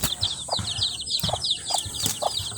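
Soft, scattered clucking from three mother hens, with faint high peeping of their chicks running steadily underneath, close by and outdoors.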